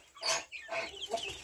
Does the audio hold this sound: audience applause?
no